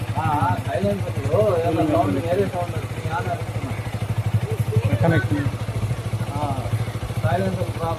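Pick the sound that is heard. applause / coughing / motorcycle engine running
motorcycle engine running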